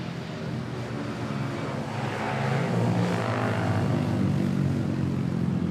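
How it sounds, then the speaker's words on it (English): An AirAsia plane takes off at Manila Airport bound for Hanoi, a rumbling engine roar that swells after the first couple of seconds and then holds steady and loud. "we have this AirAsia taking off to Hanoi"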